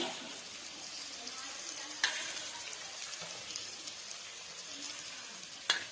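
Onion, peas and mixed vegetables fry for fried rice with a steady, moderate sizzle, interrupted by two sharp clinks of a utensil against the pan.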